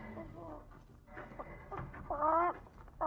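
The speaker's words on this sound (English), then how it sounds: "That's a chicken. She's a fat one." A fat hen clucks in a radio drama, a series of short, close, nasal clucks and warbling calls that grow louder toward the end.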